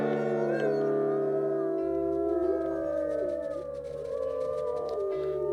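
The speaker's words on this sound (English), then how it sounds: "And we will send you off with a howl" Wolf howl from the video game WolfQuest, a sustained, gliding tonal cry with layered voices rising and falling over about five seconds. It stays loud and close over a steady background drone.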